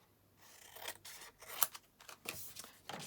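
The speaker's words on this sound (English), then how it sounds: "Now I'm going to have to trim this down a little bit." Scissors snip through a watercoloured card sheet for a hand-penned card, a few short close cuts with slight rasping between them.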